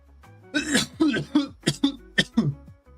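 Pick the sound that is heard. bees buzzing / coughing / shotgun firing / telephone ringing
coughing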